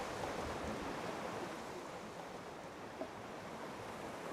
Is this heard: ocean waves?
yes